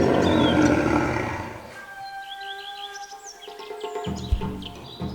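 A big cat, one of the jungle and savanna apex predators such as a lion or tiger, gives a loud, rough roar at the start that fades into quieter calls, with bird chirps and a low thump near the end.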